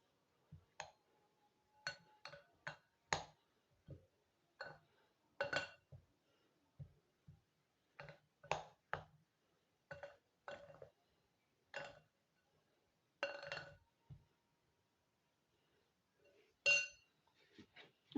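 A spoon clinks against a bowl while cornflour batter for crispy French fries is mixed, with sharp irregular taps spread through the clip, close and clear, and no talking.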